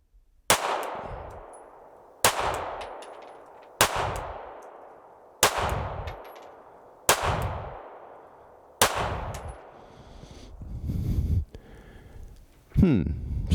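Six sharp, loud shots from a SIG P365XL pistol with a red dot sight, fired at an even pace about one and a half seconds apart, each with a ringing decay, followed by handling noise and a faint voice.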